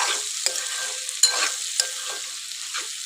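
Okra curry with softened tomatoes sizzles in a pan while a spoon stirs it in several distinct scraping strokes over a continuous hiss.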